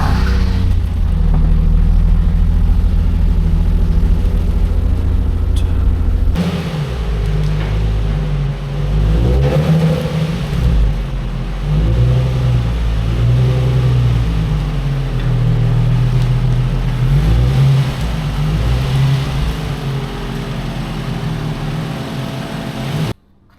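Toyota MR2 Spyder with an aging battery, its engine cranking and catching, then idling and revving in a loud, close rumble with rhythmic pulses until it cuts off abruptly at the end.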